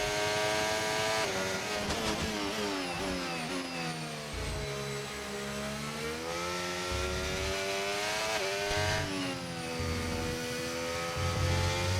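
A Formula 1 car in the racing game F1 25 screams through a lap at the Brazil circuit, its high-revving engine rising and falling through gear changes, loud and continuous with no talking.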